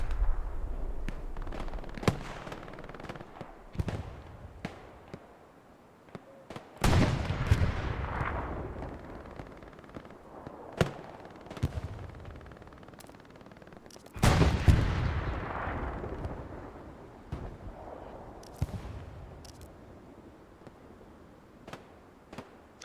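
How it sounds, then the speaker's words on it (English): Artillery fire booms through a match of the video game Hold The Line on the Foy night map, with heavy explosive blasts and scattered gunshots striking irregularly, some close and loud, others distant, with no talking. "Ooh, artillery."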